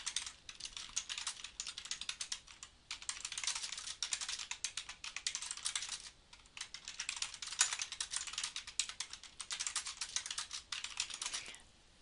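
Quick, light key clicks of someone typing text on a computer keyboard, coming in close, fast bursts with brief pauses between phrases, quiet and alone.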